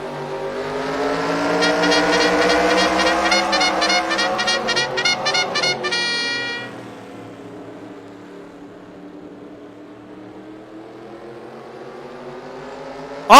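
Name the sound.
modified race cars racing at Spencer Speedway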